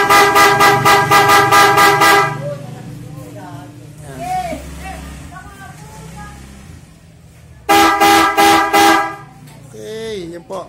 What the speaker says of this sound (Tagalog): tetest po ulit natin yung big horn